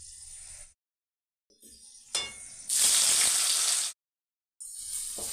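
Three medium sliced onions hit hot oil with whole spices like black cardamom and mace, bursting into a loud sizzle between quiet gaps, with clinks of a utensil against the pot and a brief splash.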